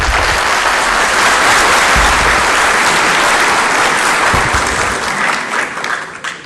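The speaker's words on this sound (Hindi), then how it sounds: "वक्फा मैंने तालियों के लिए दिया था।" An audience at a student question session with a caretaker prime minister breaks into loud, sustained applause, a dense wash of clapping that fades slightly toward the end.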